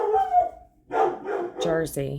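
A pet dog barks indoors at home, a few loud close barks and yips in a short burst, mixed with a person speaking over them.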